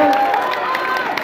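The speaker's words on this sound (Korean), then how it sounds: "박수 한번 주십니다" An outdoor crowd claps in front of a central stage outside a Daegu department store at a political rally, a dense, steady wash of applause under an announcer's voice.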